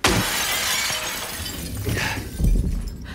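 Glass shatters in the Silent Hill 2 Remake video game: a loud, sharp crash at the start, then a scattered, crunchy tail of falling shards and debris.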